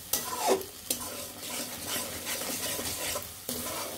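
Ginger-garlic spice paste, ground on a grinding stone for a fish kalia, sizzles steadily in a pan while a spoon stirs it, with several sharp scrapes and knocks rising above the continuous hiss.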